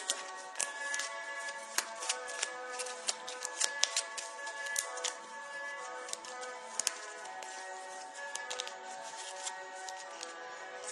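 Playing cards are shuffled at close range, giving a continuous run of crisp riffling and flicking clicks with sharp snaps scattered throughout.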